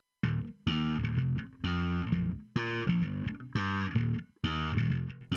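Slap bass through a Helix Ampeg SVT-4 Pro amp model with light distortion, punchy plucked and popped notes in short rhythmic phrases separated by brief gaps, loud and upfront with no voice.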